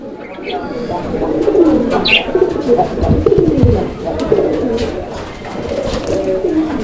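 A fancy pigeon coos repeatedly in soft, throaty rolling phrases, close by, with some background chatter and faint chirps around it.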